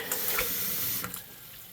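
Water running and splashing in a sink as a glass rose globe is held underwater to push out air bubbles, a steady close wash of noise with a few brief gurgles and no voices.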